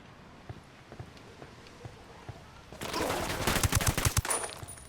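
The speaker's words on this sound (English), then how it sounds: "Opening fire on these fuckers." Gunfire in Ghost Recon Wildlands: after faint footsteps, a loud burst of rapid automatic shots starts midway and continues as a dense rattling volley to the end.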